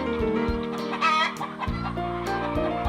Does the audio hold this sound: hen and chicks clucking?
yes